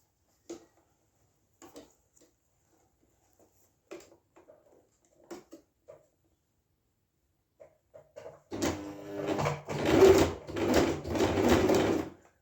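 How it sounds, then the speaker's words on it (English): A sewing machine stitching a wedding dress along pinned seams runs in a steady, loud burst over the last few seconds, after quiet scattered clicks and handling noises. "I'm going to start sewing the dress where we marked with the pins."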